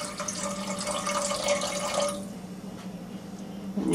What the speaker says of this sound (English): I'm going to use probably about a half more cup of water in there